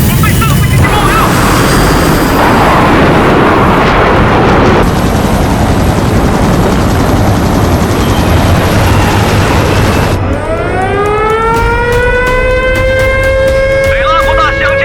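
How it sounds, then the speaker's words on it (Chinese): Military aircraft launch from the deck of a carrier in an animated sci-fi battle scene, a loud continuous engine roar and whoosh that fills the clip, ending in rising whine-like sweeps. "所有甲板上的飞机升空，快速升空"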